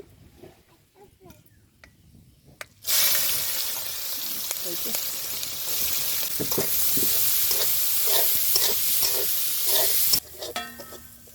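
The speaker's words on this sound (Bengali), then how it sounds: "এবার পেঁয়াজ কুচি দিয়ে দিব" Chopped onion hits hot oil already spiced with bay leaf, cardamom and cinnamon for a Bengali baim fish curry, bursting into a loud steady sizzle with stirring scrapes, after a quieter start.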